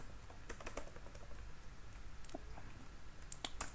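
Code being typed on a computer keyboard for a Laravel web project, with scattered bursts of soft key clicks and gaps between them over faint room noise.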